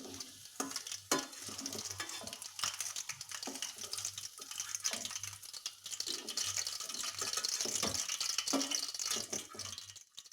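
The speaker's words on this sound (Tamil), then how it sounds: "இப்போ சிக்கன் 65 நல்லா பொரிஞ்சிருச்சு" Chicken 65 deep frying in oil makes a bubbling, crackling sizzle, close and steady, with occasional utensil taps and rustles over a faint low hum.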